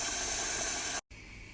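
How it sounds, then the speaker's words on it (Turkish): Water poured onto roasted butter and corn flour in a pot, giving a loud, steady hiss of sizzling steam that cuts out abruptly near the end, followed by a softer lingering hiss. "Bu aşamada üzerine suyunu ekleyip sıkça karıştıracağım."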